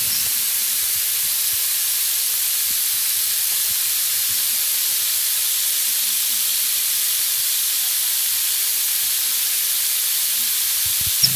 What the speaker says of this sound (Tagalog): Pinainit ko muna ang mantika